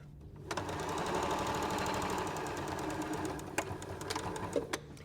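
A sewing machine runs steadily for several seconds, stitching pieces of an arrowhead star quilt block, then slows into a few short bursts and clicks near the end; close and fairly quiet, with no talk.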